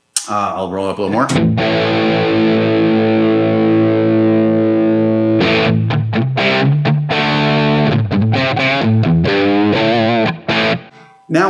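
Loud distorted electric guitar through a Line 6 Helix internal cab with 57-style mic fizz: a long ringing chord held for several seconds, then choppy strummed chords and riffs, ending abruptly.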